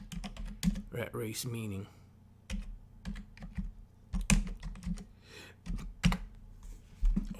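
Rapid keystrokes on a computer keyboard clatter in bursts of close, crisp clicks, with someone talking over and between them.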